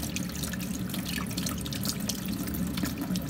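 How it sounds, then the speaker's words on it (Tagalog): Kitchen tap water runs steadily into a sink while raw chicken pieces are washed one by one, a continuous close splashing flow with small drips and no talking. "Hugasan natin isa-isa."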